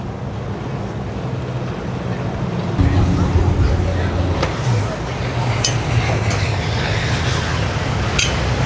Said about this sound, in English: Got us a serious sport fish boat coming around the corner.